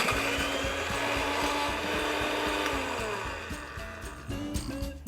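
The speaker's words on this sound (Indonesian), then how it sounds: "Oke, kita blender." An electric blender whirs steadily as it grinds a spice paste of shallots, garlic, candlenuts and coriander with a little water, a loud continuous motor drone that eases slightly toward the end.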